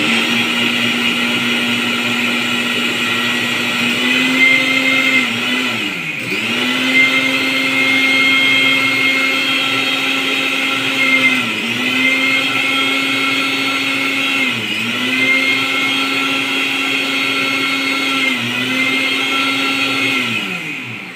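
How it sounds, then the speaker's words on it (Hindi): A kitchen blender grinds milk, coffee powder, sugar and crushed Oreo biscuits into a cold coffee drink, with a loud, steady motor whine that dips briefly every few seconds as the contents shift. "ये हमारी कॉफ़ी ग्राइंड हो चुकी है"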